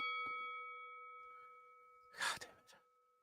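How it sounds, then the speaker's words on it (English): A notification bell on a stream repeats its ding, a bright chime ringing out clearly near the end after a quieter stretch with faint tones, with a voice heard briefly. "I forgot to turn this fucking bell off and stop it from repeating."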